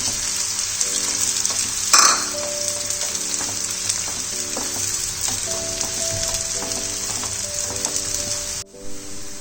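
Onions frying in oil until light brown, a steady, close, loud sizzle with a sharp stirring scrape near the start, over soft background music, cutting off abruptly near the end.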